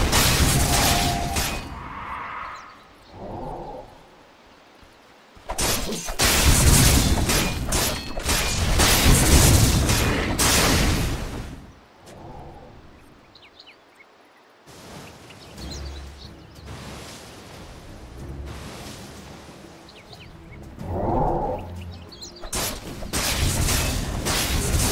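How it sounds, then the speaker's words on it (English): Booming, crashing game effects from Dota 2 as a tower comes under attack: loud blasts in bursts separated by quieter gaps. "Radiant's bottom tower is under attack."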